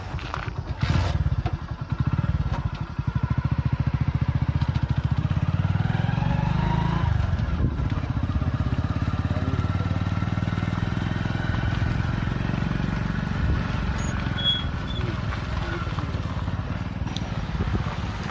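A motorcycle crosses a dam, its engine a loud, continuous low drone close by, with clattering and bumps along the way and a slight rise as it accelerates.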